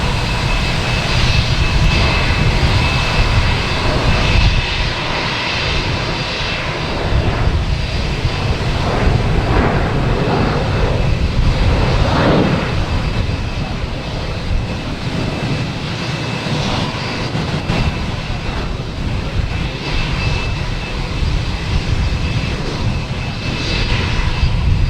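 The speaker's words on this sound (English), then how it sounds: "We got a plane there flying by the moon." A jet airliner passes overhead at Boston Logan Airport at night, a loud continuous engine roar and rushing hiss that fills the whole stretch and holds steady from start to end.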